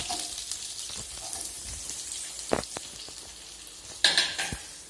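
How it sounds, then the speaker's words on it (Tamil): Ginger, garlic and curry leaves crackling in hot oil for a brinjal kuzhambu, a close spitting sizzle with scattered pops and two louder scraping clatters of a spoon in the pan. "கருவேப்பிலையும் நல்லா பொரியட்டும்"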